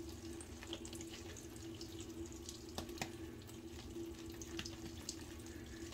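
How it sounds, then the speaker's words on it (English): Tap water is added to a bowl of shave soap lather, a soft close trickle with faint splashes and clicks, no voices. "Added a little bit more water, it's our second water addition."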